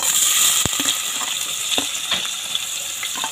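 Chopped onion hits hot oil for an Andhra-style taro and tomato curry, a loud, close sizzle that settles into steady frying with a few stirring clicks, no voices.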